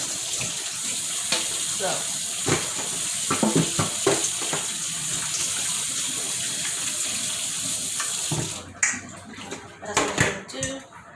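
Running tap water rinsing pepper steak beef strips in a sink, a steady splashing stream with a brief spoken word, then clattering handling sounds near the end.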